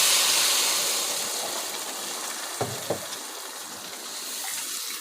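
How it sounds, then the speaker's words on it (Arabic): Water poured from a container into a pot of meat being cooked for meat soup: a steady broadband rush of splashing liquid that fades slightly over time, with a couple of brief clinks partway through. "هحط له ميته"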